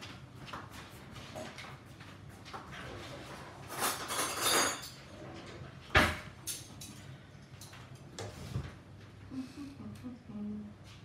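A metal spoon clinks and scrapes against a bowl and a cake tin while cupcakes and Viennese whirls are being made: several irregular, fairly faint clatters and chinks, with a person talking quietly in between.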